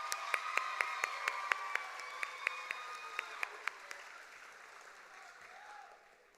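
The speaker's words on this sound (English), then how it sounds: "Let's give them one more round of applause." A graduation audience at KIPP Indy Legacy High gives another round of applause. It is faint and distant, with a few sharp nearby claps standing out, and it fades away toward the end.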